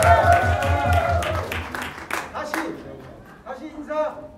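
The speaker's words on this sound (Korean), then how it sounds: "다시 한번 큰 박수 해주시기 바랍니다." A congregation at a church retreat skit performance gives a round of clapping under a speaking voice and background music, the claps tapering off as another voice cuts in.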